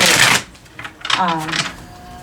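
A deck of cards is shuffled in a quick riffle burst at the very start, followed by quieter handling sounds and a voice speaking.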